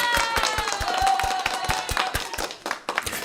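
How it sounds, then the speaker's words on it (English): A small group at a Final Cut Pro Creator Summit livestream gives a round of applause, with sharp, evenly spaced claps ringing out close and loud, plus a few scattered claps and light background voices. "We want to give you a round of applause."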